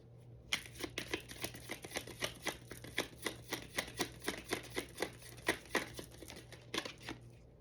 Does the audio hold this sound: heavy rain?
no